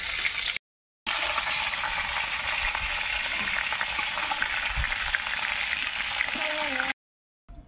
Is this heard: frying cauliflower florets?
yes